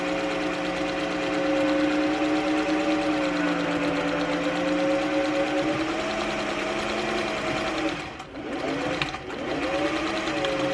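Sewing machine running steadily as it stitches a straight seam down a tie-dyed muslin or linen curtain, a continuous close hum with a brief dip near the end.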